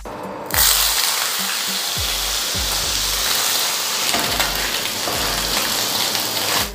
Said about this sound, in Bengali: এবার আমাদের এই পিসগুলোকে এর ভিতরে দেবো, আর 1 মিনিটের জন্য আমরা এটাকে ফ্রাই করব।